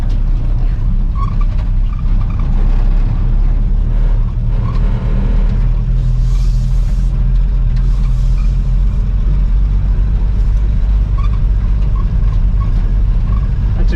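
A 1958 Chevy Apache pickup truck that sat for 20 years drives along with a steady low engine rumble and road noise filling the whole stretch, close and loud, with no talk over it.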